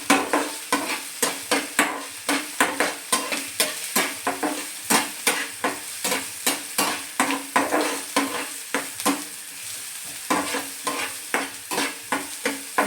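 Masala omelette ingredients fry in a pan over medium-high heat: a steady sizzle under quick, rhythmic scraping stirs, each stroke a crisp close scratch repeating about every half second, with no voices.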